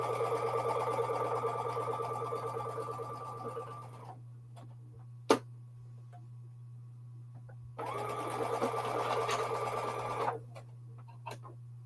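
A sewing machine stitches quilt pieces in two steady runs of rapid, even mechanical whirring separated by a quiet pause, with a constant low motor hum underneath throughout.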